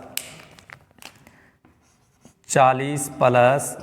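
A maths equation being written on a board, with scattered light taps and scratches of chalk across the first two seconds, then someone speaks.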